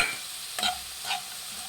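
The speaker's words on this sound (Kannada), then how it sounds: "ಇದನ್ನು ಸ್ವಲ್ಪ ಮೆತ್ತಗಾಗಂಗೆ ಫ್ರೈ ಮಾಡಬೇಕು" Capsicum and green chillies fry in a pan for chitranna, a soft sizzle broken by a couple of quick stirring scrapes.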